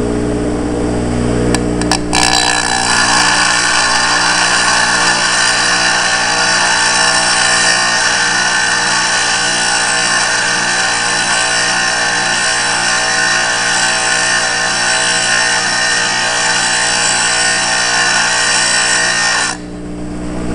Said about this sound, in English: That is a grinder.